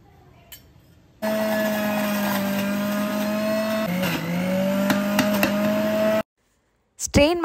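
An electric juicer grinds amla, ginger, turmeric and pepper with a steady, droning motor whine for about five seconds. The pitch dips briefly under load, then the motor cuts off abruptly.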